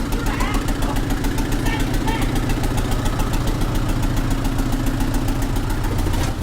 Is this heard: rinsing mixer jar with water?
no